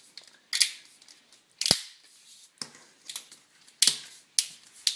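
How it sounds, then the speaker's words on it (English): A Uniblade shower seal is clicked together along its length, giving a series of sharp plastic clicks and snaps spaced irregularly, close and fairly loud against a quiet background. "you must make sure you're clicking it together all the way down the length of the seal"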